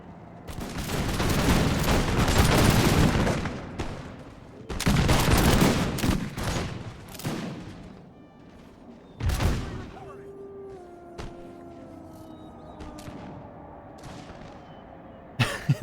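Musket volleys crack across an American Revolution battle in a video game, several loud rolling bursts of massed gunfire with scattered single shots, followed by quieter battlefield ambience and a few distant reports.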